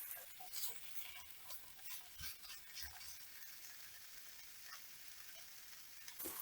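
Sausages and mushrooms frying together in a pan: a faint, steady sizzle and crackle with occasional soft stirring knocks, heard alone and without voices.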